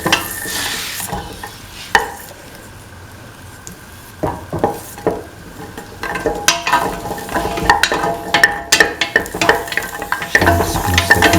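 Shallots sautéing in a pan with salt, sizzling steadily while a utensil stirs and scrapes them in irregular clacking bursts, close and moderately loud with no voices.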